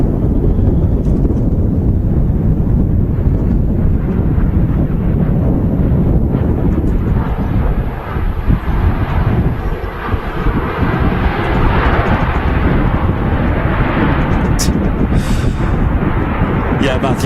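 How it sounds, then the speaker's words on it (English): A Ryanair Boeing 737 MAX arriving from Copenhagen touches down at Manchester Airport, a steady loud jet roar mixed with heavy wind buffeting on the microphone throughout. "Just about to touch down now is a Ryanair 737 MAX from Copenhagen."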